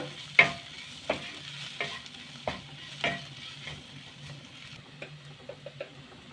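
Spices for chole are stirred in a pan, producing a quiet background sizzle and a series of distinct spoon scrapes and taps that come roughly every half second, growing lighter and quicker toward the end.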